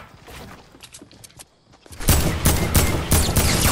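Rapid video game gunfire aimed at a player on a roof. Sparse shots and scuffs start quietly, then a dense burst of loud, close repeated shots begins partway through and keeps going.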